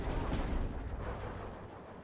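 Mortar fire in the World War II strategy game Steel Division 2, a dense, continuous rumble of heavy blasts and booming impacts with no clear gaps, loud and low-heavy throughout.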